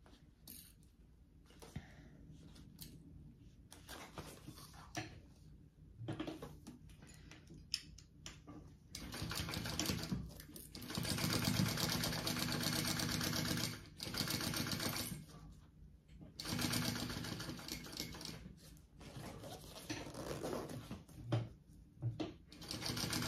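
A sewing machine stitches a full seam allowance along the top of a lining in several close, rapid bursts of ticking and whirring with quiet pauses between them.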